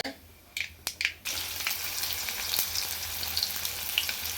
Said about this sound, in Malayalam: ഇനി നമുക്ക് പച്ചമുളക് ചെറിയ ഉള്ളി കറിവേപ്പില ഇതാണ് ഞാൻ ഇടുന്നത്